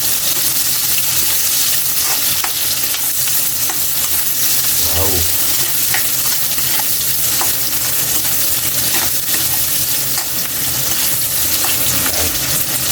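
Chopped red onions frying and sizzling in a pan with steady hiss throughout, a utensil stirring and scraping now and then while the tuna dish cooks; no one speaks.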